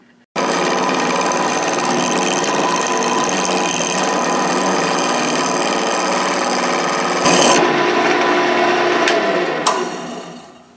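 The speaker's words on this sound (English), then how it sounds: "I'm going to take my little homemade scraper and I'm going to work over this a little bit and see if I can scrape that finish a little smoother" Homemade hand scraper working over a wood finish, a loud, close, continuous rasping scrape lasting several seconds before a few final strokes and a stop.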